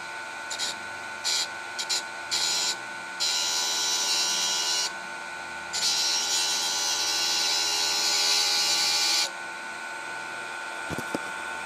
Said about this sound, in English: You can set Dremel initially to a lower RPM and score your work area.